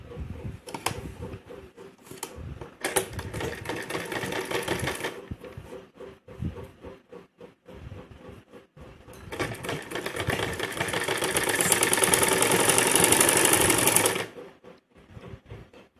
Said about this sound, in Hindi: इस पे पूरे पे सीधी सिलाई लगा लेंगे।